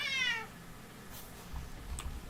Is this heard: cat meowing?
yes